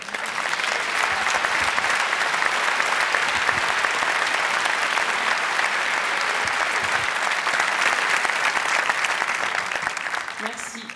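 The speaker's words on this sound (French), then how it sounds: "Merci d'applaudir Camille Lelouch" A large audience applauds steadily to welcome comedian Camille Lellouche on stage, a dense, sustained roar of clapping at full volume that tapers slightly toward the end.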